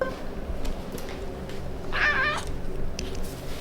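A pet cat meows once in a room, a short mid-loud tonal call standing out over steady indoor background noise, with no talking.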